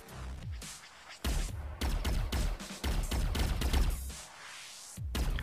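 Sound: gunfire in Space Jet Galaxy War video game

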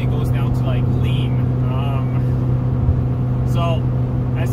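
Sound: Honda Civic EF9 engine running while driving

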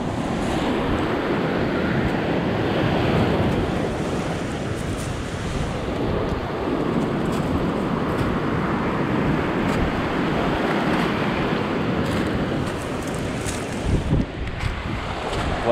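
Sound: waves on a sea glass beach

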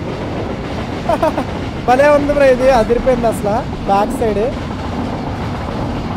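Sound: WAP4 train running on rails in Train Simulator Classic video game

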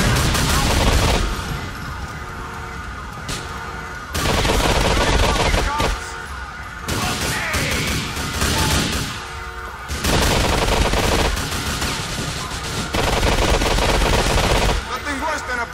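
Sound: machine gun fire in the video game GTA 4 Ballad of Gay Tony

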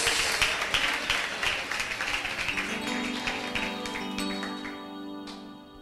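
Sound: congregation applauding in church

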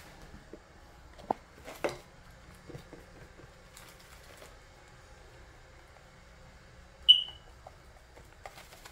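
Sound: fire alarm beeping

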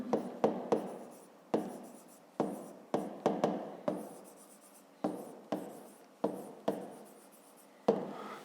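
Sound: writing a maths solution by hand

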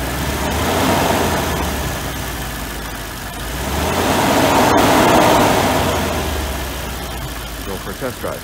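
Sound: rattle of loose catalyst in Mercedes rear catalytic converter

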